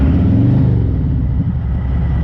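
A loud Harley-Davidson motorcycle engine with Stage 1 and 2 upgrades rumbles and revs steadily up close, a deep throbbing roar with no voices.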